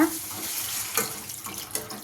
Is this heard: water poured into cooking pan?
yes